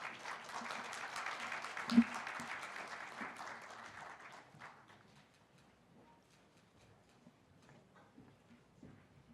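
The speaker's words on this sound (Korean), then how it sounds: "큰 박수로 맞이해 주시기 바랍니다" An audience at a conference forum claps loudly for a few seconds as speakers are welcomed to the stage, then the applause thins out and fades to scattered claps.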